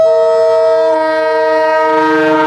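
A train pulls into Prayagraj Junction. Its loud, sustained horn holds a steady chord of tones for the whole brief moment, with nothing else heard.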